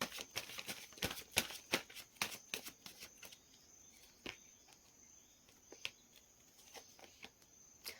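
Tarot cards shuffled and drawn by hand, a quick run of crisp flicks and slaps that thins into occasional single card snaps, close and quiet with no speech.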